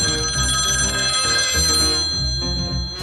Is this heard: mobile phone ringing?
yes